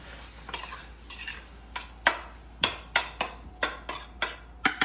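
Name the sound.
tossing peanut sauce dish in a pan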